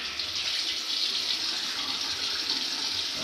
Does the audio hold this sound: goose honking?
no